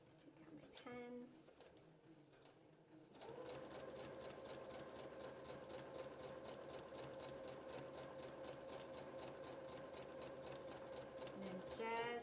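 A sewing machine stitches a dress seam in a steady, even mechanical whir with a fast regular needle rhythm, starting after a brief quiet moment and running close and continuous to the end while a voice talks softly over it.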